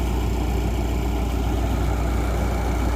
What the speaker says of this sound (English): The tractor is just performing flawlessly.